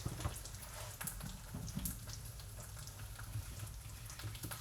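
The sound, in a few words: plantains frying in butter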